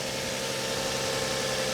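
A car engine runs at a steady idle, a continuous low hum with a faint vibrating rumble that holds even and unbroken throughout.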